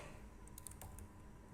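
Keys on a computer keyboard tap in a short, quiet burst of separate clicks, followed by a louder thump near the end, with no voices.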